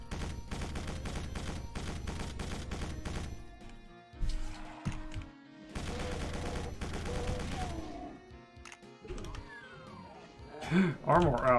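Chaingunner enemies in a Doom WAD fire rapid bursts of gunfire, dense rattling volleys in two long stretches separated by a brief lull, followed by mechanical clanks and effects, with a voice talking over parts.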